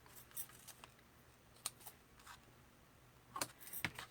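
Scissors trimming ribbon and paper on a stamped paper craft project, with a few quiet snips and short broadband clicks spread across a faint, soft background.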